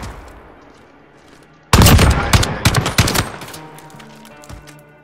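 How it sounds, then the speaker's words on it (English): Call of Duty Modern Warfare gameplay with a sudden loud burst of rapid machine gun fire that ends in scattered shots, after a quieter low background rumble. "There's a machine gun right in front of me."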